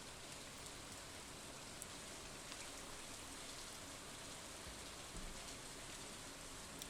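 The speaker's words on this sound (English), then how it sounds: "It's a rainy day." Rain in the Stardew Valley video game, a steady, soft hiss of falling rain with scattered faint drop ticks, even and continuous with no talking.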